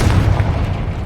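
The Confringo spell explodes in Hogwarts Legacy, giving a loud continuous booming rumble that fills the short moment with heavy low-end force.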